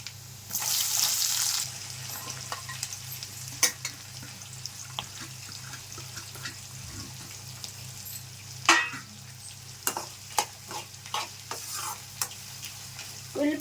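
Onion, green chilli and curry leaves fry with okra in hot oil, a soft steady sizzle broken by a spatula stirring and scraping the pan, plus a brief burst of running tap water near the start.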